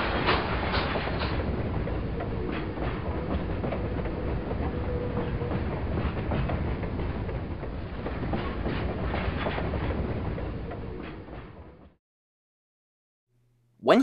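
A train rumbles steadily along the rails with faint rhythmic clacking for about twelve seconds, then cuts off abruptly into silence.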